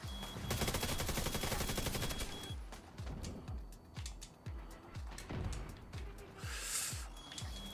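Automated turrets in The Division 2 pour out rapid, steady bursts of gunfire, a continuous rattling stream of sharp shots that keeps up for several seconds at close range with brief pauses, fairly quiet overall.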